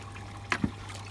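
Water trickles and drips through the media of a Nexus Easy Pod aquarium filter, a couple of brief close splashes over a low steady hum.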